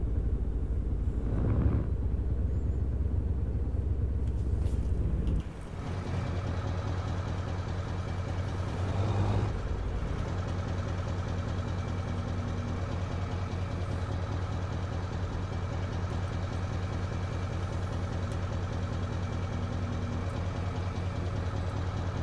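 A video game vehicle engine idles and drives in a steady, continuous mid-to-low drone over a rough track, with a brief dip and shift in tone early on, then holding level and close throughout.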